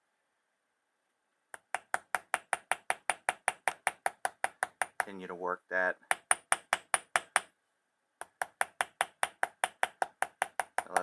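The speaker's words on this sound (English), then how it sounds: "Just using a jeweler's hammer here." A jeweler's hammer taps steadily on buffalo hide leather for a knife sheath, a rapid run of sharp, close knocks in regular rhythm, pausing briefly while someone speaks, then resuming.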